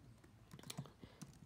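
Soft, irregular clicking of keys being typed on a computer keyboard, entering text into a Google Slides presentation, heard close and quiet with no voices.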